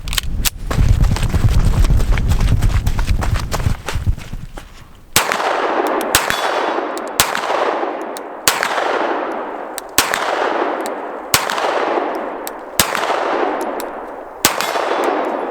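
Pistol fired outdoors by a shooter wearing Vertx tactical gloves, about nine sharp, loud reports at an uneven rhythm, each with a ringing echo tail, after a stretch of rustling, handling noise.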